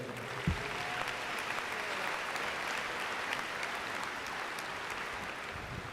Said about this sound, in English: Let's give him and all the presidents a big round of applause as they come